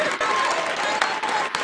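Audience at a youth business conference breaks into clapping, loud and close, a short dense burst with a few sharp individual claps and voices mingled in.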